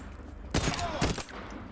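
Hip-fired gunfire in Void Train, two quick bursts of rapid shots about half a second apart, loud and close against a quiet background.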